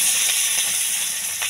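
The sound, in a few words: green chilies added to hot oil, sizzling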